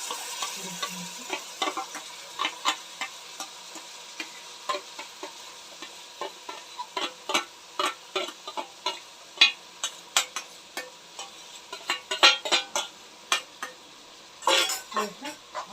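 Ground fenugreek-leaf masala mixture sizzles in hot oil in a pan while a spoon stirs it, producing repeated scraping strokes and light metallic clinks at close range.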